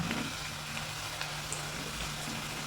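Spices sizzle and fry in hot oil for a pearl spot fish curry, a steady close crackling hiss that runs unbroken throughout with no talking.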